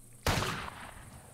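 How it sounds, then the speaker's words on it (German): A single sharp gunshot in the video game Baphomets Fluch 5 bursts out abruptly and loud, then trails off in a long rumbling echo. "Kommt gleich erstmal ein Schuss hier."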